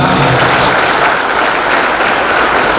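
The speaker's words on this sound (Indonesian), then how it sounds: "tepuk tangan untuk Jambi ya" Loud, dense applause from a large audience at a leadership training seminar, continuous clapping that fills the whole stretch without any speech.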